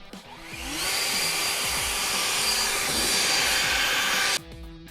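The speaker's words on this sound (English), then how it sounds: "We're blowing out of the edge, and then we're blowing the grass back to make that real defined deep edge." A leaf blower clears grass clippings along a defined lawn edge with a loud, steady airy roar that swells up within the first second, holds, and cuts off abruptly near the end.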